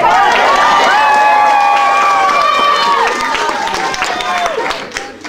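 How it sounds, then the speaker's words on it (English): A live audience cheers and shouts enthusiastically on cue, loud and sustained crowd voices with whoops and calls rising and falling over a few seconds, overlapping one another. "Come on, let's cheer him on, audience."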